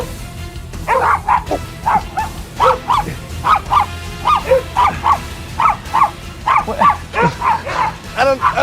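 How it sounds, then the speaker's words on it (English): Dog barking in a rapid repeated series of sharp yips and barks, close and loud, continuing throughout with faint background sounds. "What a pretty dog."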